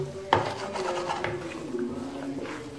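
Spoon scraping and rubbing against a pan while halwa made with ghee is stirred and roasted, giving a sharp clink at the start and then soft, irregular scraping strokes close by.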